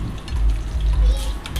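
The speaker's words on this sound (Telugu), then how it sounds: "ముందుగా స్టవ్ ఆన్ చేసి ప్యాన్ పెట్టుకొని అందులో ఆయిల్ వేసి ఎండుమిర్చి వేయాలండి" Dried red chillies frying in oil in a pan, a close, steady sizzle with a low crackling bed that keeps going throughout the short moment.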